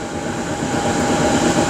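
Continuous rumbling roar of a train rolling on rails, heard from inside the carriage, a dense steady noise with faint rattling and no pauses or voices.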